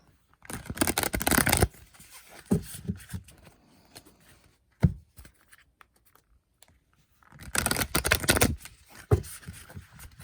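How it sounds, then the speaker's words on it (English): Tarot cards are shuffled by hand on a table in bursts of dry riffling and papery flicks, two louder shuffling runs separated by quieter taps and card handling. "little bit better at shuffling these"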